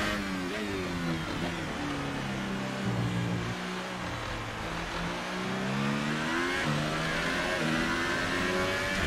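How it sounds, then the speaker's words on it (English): A racing car engine in an F1 game on the Baku street circuit roars continuously at high revs, its pitch sweeping down and back up as it stutters and cuts out briefly, with no talk. "I think that's the engine like tripping out."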